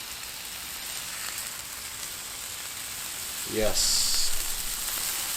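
Pork chops frying on a Blackstone griddle give a steady, close sizzle throughout, with a louder crackling burst near the end as more oil hits the hot surface. Someone talks over the cooking.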